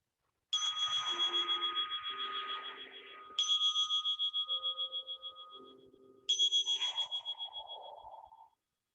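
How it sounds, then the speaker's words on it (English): A meditation bell sounds three times at the start of a guided mindfulness session, each strike ringing out clearly and decaying with a wavering, pulsing resonance, close and isolated with no talking. "I hope that you all listen to the bell."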